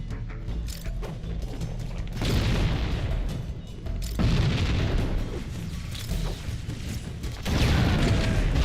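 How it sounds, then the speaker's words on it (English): Repeated booming explosions in Halo CE's Flood-infested level 343 Guilty Spark, played on Legendary with skulls; dense, loud blasts arrive in waves every couple of seconds over a constant rumbling game soundscape. "How did it blow me up?"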